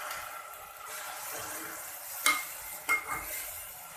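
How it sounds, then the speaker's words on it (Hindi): Onions hit hot oil in a pan and sizzle softly, a quiet frying hiss with a couple of sharp clicks of a utensil stirring against the pan. "और अब मैंने इसके अंदर डाल दिया है प्याज।"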